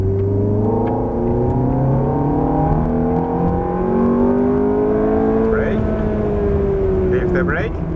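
An exotic sports car on a race track accelerates hard at full throttle, its engine note rising steadily and loud throughout, while an instructor talks over it giving driving directions.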